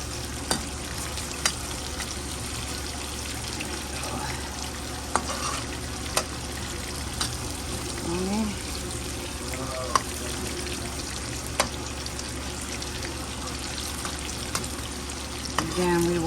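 Shrimp seasoned with paprika stir-fried in a new wok, giving a continuous loud sizzle with scattered sharp scrapes and clacks from the utensil as the food is tossed.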